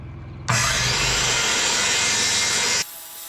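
A power saw rips lengthwise through a 2x12 board, a loud, steady whining cut running for about two seconds before stopping abruptly, up close with no talking.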